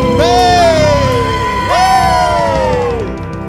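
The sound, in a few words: congregation cheering loudly for God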